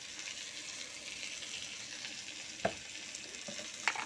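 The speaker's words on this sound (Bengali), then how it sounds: "আর দেব পরিমাণ মতন হলুদ দিয়ে মশলাটাকে ভালো করে কষাবো" Steady sizzle of spice paste frying with turmeric, cumin and chili powder for a mourola fish curry, a continuous hiss broken by two sharp clinks of a stirring utensil against the pan.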